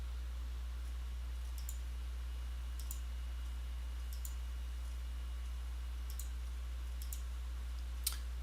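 Mouse clicks on a computer while an Arduino library is added from a zip file: about seven sharp, isolated single clicks spaced roughly a second apart over a steady low hum, the last one slightly louder.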